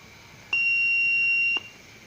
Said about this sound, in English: see here how buzzer will come and light also comes